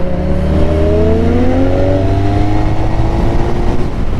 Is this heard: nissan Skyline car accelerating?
yes